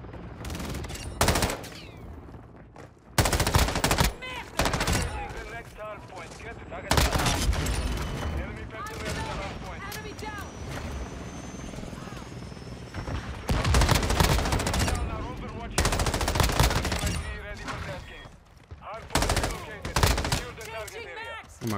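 Rapid battle rifle fire and other gunfire rattle in loud bursts through a Call of Duty multiplayer match, broken by short pauses while a player talks excitedly over the shooting.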